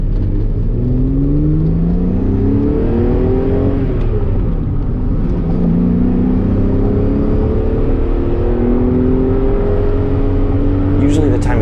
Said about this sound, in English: If traffic allows and it's safe, do some acceleration pulls.